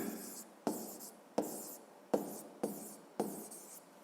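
Hand writing out a school math solution on paper, six distinct pen strokes in a regular rhythm, each a sharp scratch that trails off, close and quiet with no talk.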